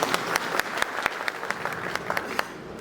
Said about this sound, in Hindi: एक ताली बजा के आशीर्वाद दें।